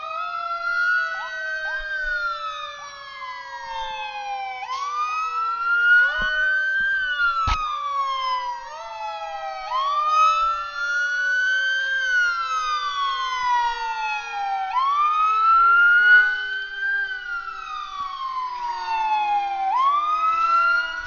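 Several fire truck sirens wailing close by in slow rising and falling sweeps, with layered overlapping tones, steady and loud for the whole stretch, on a backed-up small road near Atlanta airport.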